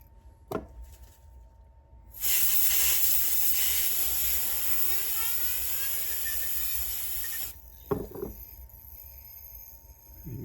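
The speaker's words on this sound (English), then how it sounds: "you can take your duster and you can hear that bearing just take off" Compressed-air duster blasting a fishing reel bearing, a loud steady hiss lasting several seconds with a whining tone that rises as the bearing spins up, followed by a couple of brief clicks and handling knocks.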